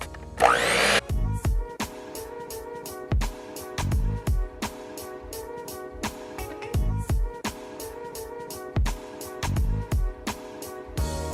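Tres leches cupcake batter whirred by an electric mixer, motor buzzing in regular on-off pulses with brief loud bursts, starting after a short rustle.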